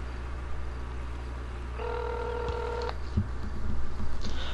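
A mobile phone rings inside the video game GTA 5 Online, a short steady electronic tone of about a second over constant low game hum and rumble, followed by some soft thumps.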